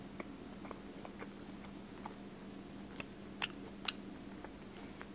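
A holiday Kit Kat bar with cinnamon in the wafer is bitten and chewed, giving a few faint, crisp crunches and soft ticks against a quiet background hum.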